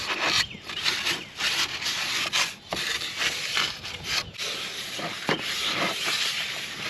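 Aerosol satin black paint sprayed onto scuffed, cleaned plastic truck parts from a junkyard Ford F100, a steady close hiss in several bursts with brief pauses between them.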